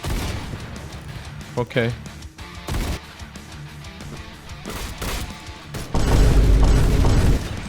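Sniper rifle shots in Roblox Phantom Forces, several sharp booming cracks spaced a second or so apart, followed by a longer rumbling burst, with a player briefly speaking over the game sounds.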